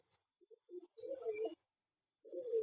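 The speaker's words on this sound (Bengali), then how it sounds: "খুব সুন্দর পায়রা" A pigeon coos close by in a quiet room: a few soft introductory notes, then a longer throaty coo, a pause, and another coo.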